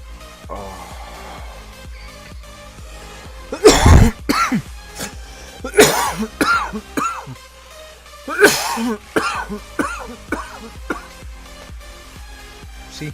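A coughing fit: several loud, harsh bursts of coughing and throat clearing spaced a couple of seconds apart, close to the microphone, with faint gaming sounds in between.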